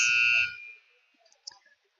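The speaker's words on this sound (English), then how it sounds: "That was buzzer number 2, end of period 2." A loud electronic buzzer sounds once at an ice hockey arena to end the second period of a junior game between the Jr. Bucs and Jr. Lancers, then cuts off into near-quiet with faint arena noise.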